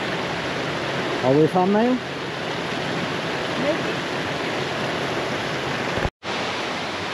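A waterfall in Sweden seen from a thru-hiking trail gives a steady, even roar of rushing water throughout. It is moderately loud and constant, with a brief interruption near the end, and people talk briefly over it.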